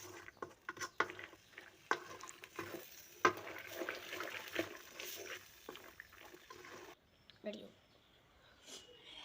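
Potatoes stirred with spices in a frying pan give irregular scraping and soft patter, with quiet talk in the background before the stirring fades out near the end.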